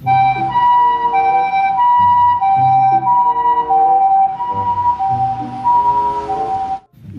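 A loud toy ambulance siren wails in a repeating two-tone pattern, close and continuous, cutting off abruptly at the end.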